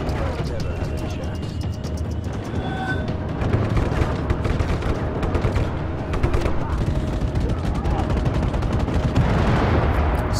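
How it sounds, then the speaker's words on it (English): Dense small arms fire aimed at a tank in the video game Just Cause 3, a nearly continuous crackle of rapid gunshots mixed with booms, loud and sustained throughout. "small arms fire"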